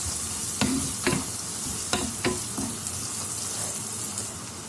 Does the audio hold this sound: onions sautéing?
yes